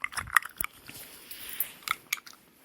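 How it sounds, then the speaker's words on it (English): A child chews food with scattered, close crunchy bites and wet mouth clicks that come in irregular bursts at a low level. "They don't want to hear you chewing."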